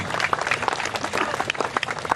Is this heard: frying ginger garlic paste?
no